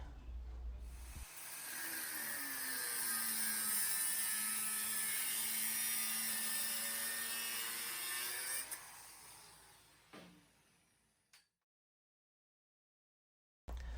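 Bicycle handlebar tubing being cut for miters with a power tool, a steady high-pitched whining grind with a rising and falling pitch that runs for about nine seconds, then tapers off into silence.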